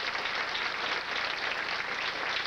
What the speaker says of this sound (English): Let's hear a nice round of applause.